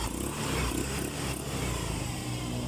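A motorcycle engine runs close by after repair, a loud steady idle with brief revs and no remaining odd noise, heard alone without talking.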